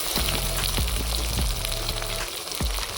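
Onion, chili and tomato sizzling in hot oil on an outdoor picnic cook-up at a beach, a steady broadband fry with several thumps and clatters of stirring, close and fairly loud.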